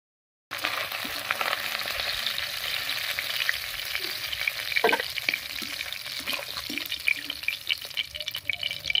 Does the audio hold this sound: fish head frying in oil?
yes